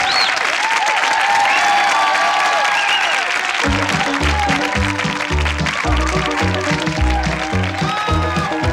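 Studio audience applause and cheering at the close of a comedy set on a television comedy show, loud and sustained, with rhythmic clapping joining in partway through.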